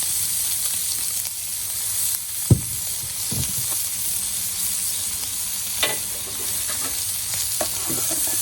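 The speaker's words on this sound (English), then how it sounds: "let's lay down some Chosen Foods avocado oil" Chosen Foods avocado oil sizzles on a Blackstone flat top griddle, a steady hiss with a few scraping knocks of a spatula and light clatter, close and moderately loud, with no talking.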